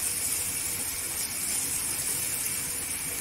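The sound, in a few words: masala frying in oil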